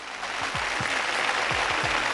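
Studio audience applause on a Telugu TV game show, a steady, even wash of many hands clapping, moderately loud and unbroken for a couple of seconds.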